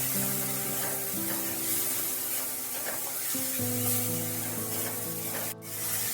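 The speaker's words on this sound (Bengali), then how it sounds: "পেস্ট দেওয়ার পর ভালোভাবে একটু নেড়ে নিতে হবে।" Okra coated in spice paste fries in a pan with a continuous sizzling hiss as it is stirred and scraped, over a steady background hum, ending with a brief sharp scrape near the end.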